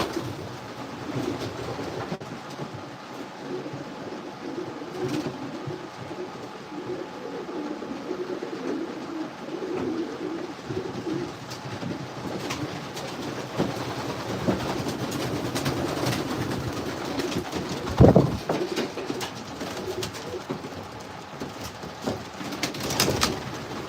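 Racing pigeons coo softly and continuously in a breeder loft on a rainy day, a low murmuring bed of calls with a brief louder clatter near the end and no speech.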